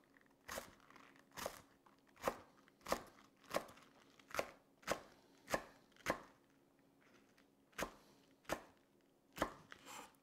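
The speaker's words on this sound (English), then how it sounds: "And now we're going to slice these as well thin" Bok choy being thinly sliced with a knife on a cutting board: a steady run of about a dozen crisp, crunchy chops at a regular pace, close and clear with no talking.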